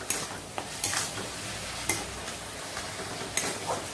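A spoon stirs prawn curry spiced with turmeric in a pan, giving repeated scraping knocks against the metal at an uneven rhythm over a soft sizzle. There is no talking.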